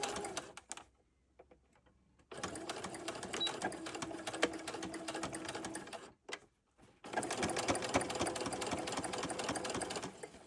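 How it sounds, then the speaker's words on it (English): A sewing machine stitches a centered zipper about a quarter inch from the teeth, running in two long steady bursts of rapid whirring separated by brief pauses, with a few short stops and starts. "I'm really just sewing about 1/4 inch away from the zipper teeth."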